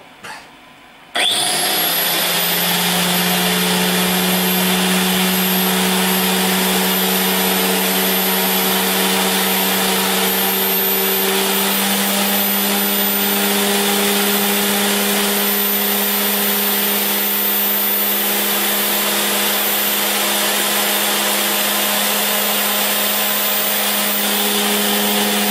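A Wandeli QX ZD-1200 electric cutter switches on after a short pause and runs steadily in automatic mode, a loud continuous motor whine with a high tonal hum that holds throughout, close and without speech.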